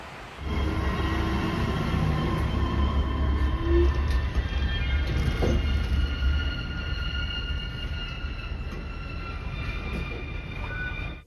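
Train at a station rumbles steadily for several seconds, a loud, low, continuous roar with faint high whines and a brief clank midway, fading slightly toward the end.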